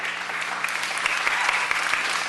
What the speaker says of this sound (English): Please keep the applause to a minimum